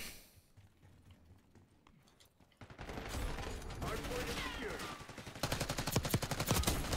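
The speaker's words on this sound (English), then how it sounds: "Who's shooting at me?" Dense bursts of video game gunfire in Black Ops 6 swell from a quiet start into sustained rapid shooting, loud and close, with a player speaking over the firefight.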